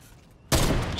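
Gunfire in Fortnite cuts in suddenly after a half-second of near quiet, a loud, dense burst of shots that holds for the rest of the moment.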